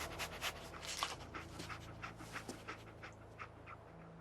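The dog companion in the video game Fallout 4 panting in quick, rhythmic breaths, close and steady over a low background hum, with no talking.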